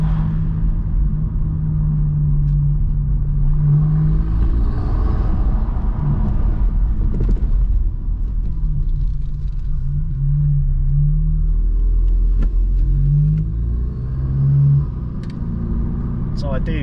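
A 530bhp stage 3 tuned Golf R with a steady low engine drone and rumble while driving, turbo whooshes and flutters rising briefly on top, with a person talking over it throughout.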